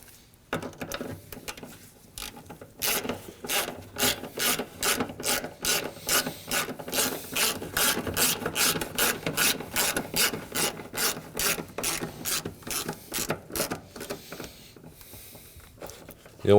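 Rapid ratchet clicks in steady bursts as bolts are snugged down on a 2013-2015 Subaru XV Crosstrek 2.0L H4 fuel pump module, close and clear, with short pauses between runs of clicking.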